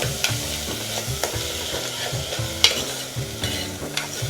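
Rice roasting in hot oil with cumin, mustard seed and turmeric, stirred with a spoon in a pan; a soft continuous sizzle broken by regular scraping strokes and a few sharp clinks against the metal, with no talking.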